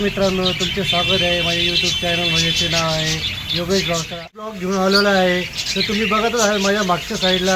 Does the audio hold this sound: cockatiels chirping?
yes